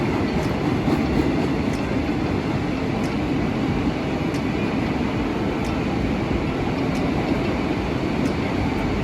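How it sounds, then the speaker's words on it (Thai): A long freight train rumbles steadily and loudly past Chatuchak station in Bangkok, heard from above, with a dense continuous roar and faint regular clicks of wheels over rail joints. "ยาวมากนะเสียงดังด้วยนะรถกลังวิ่งผ่านอยู่"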